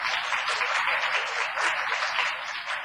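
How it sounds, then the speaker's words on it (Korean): Dense applause fills a church hall as a Korean congregation claps together, a thick continuous wash of many hands holding steady throughout without voices. "그럼 우리 박수로 하나님께 영광을 드립니다"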